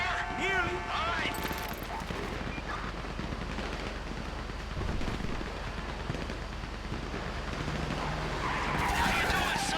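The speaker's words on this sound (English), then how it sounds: "You hear that gunfire?" Gunfire in the video game GTA V during a bank heist shootout, bursts of shots mixed with screeching tires and car engines, loud and busy throughout, with voices talking over it.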